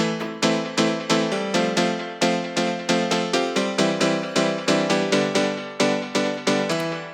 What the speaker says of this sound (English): So layered on top of the Korg M1 sounds like this.